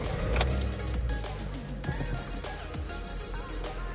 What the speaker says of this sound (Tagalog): So ayan, umandar na yung sasakyan natin.